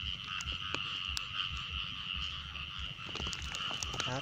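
Frogs croaking in a flooded rice field during the water-release season, a steady dense chorus of rapid low croaks with a high ringing insect-like drone over it, no talking.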